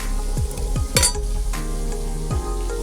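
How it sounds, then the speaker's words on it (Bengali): Fish frying in a pan for a Bengali fish curry with bean seeds, a steady close sizzle with repeated clinks and scrapes of a spatula or utensil against the pan. "মাছ ভাজা হচ্ছে"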